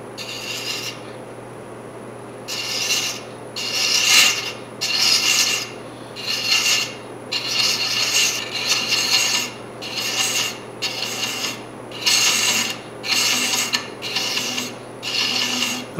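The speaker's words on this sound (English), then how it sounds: "I've got a 12 TPI chaser that I'm going to just practice with, and I'm going to just establish some threads." A 12 TPI thread chaser cuts threads into wood spinning on a lathe at around 300 RPM, giving repeated rasping, filing-like bursts of about a second each, close and fairly loud, separated by short pauses with a steady hum beneath.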